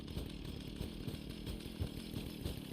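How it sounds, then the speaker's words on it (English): A chainsaw wielded in the Fallout video game snarls continuously with a rough, buzzing motor drone that pulses slightly, loud and steady with no talking over it. "Prime opportunity for the chainsaw."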